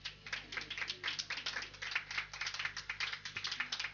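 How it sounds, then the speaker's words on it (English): A small audience claps together at a cocktail party speech, a steady run of quiet, dense hand claps lasting a few seconds with no talking over it. "Can you clap for me?"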